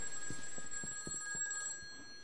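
Telephone ringing inside the horror game Those Who Remain, a faint repeating electronic bell with steady high tones over a quiet, dark ambience, several short pulses in an even rhythm, no talk.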